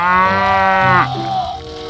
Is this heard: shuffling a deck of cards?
no